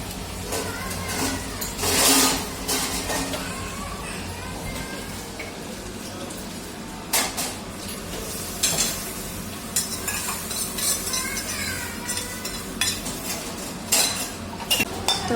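A tempering for jeera rice being stirred in a pan, with a continuous sizzle under repeated scraping and clinking of a spoon against the metal, close by, and a voice speaking faintly in the background.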